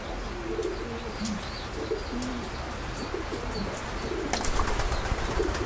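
Pigeons coo repeatedly in a close pen, low burbling calls recurring throughout, with bursts of wing flapping and rustling near the end.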